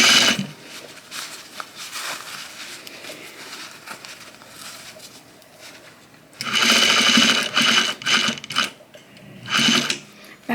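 A sewing machine stitching a cuff onto a jacket sleeve, with a quieter mechanical whir at first and then loud, fast needle runs in bursts, stopping and starting close by.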